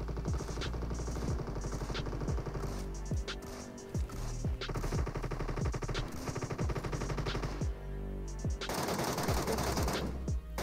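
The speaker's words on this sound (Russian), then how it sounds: "Они уже по нам, кстати, захотели стрелять." Automatic gunfire from a DP-28 light machine gun and other weapons in a Metro Royale battle royale match, with dense rapid bursts and single shots repeating throughout, loud and close, and no talk.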